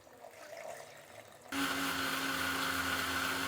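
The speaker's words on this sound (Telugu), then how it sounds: "ఇప్పుడు నీళ్ళు పోసి మిక్సీ పట్టాం కదండి." A kitchen mixer grinder blending coconut with water switches on abruptly after a quiet moment, then runs as a loud, steady whirring drone up close.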